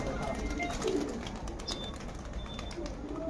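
Released pigeons coo and flutter faintly amid an outdoor crowd murmur at a pigeon-flying contest, with scattered chirps and a low, busy background hum.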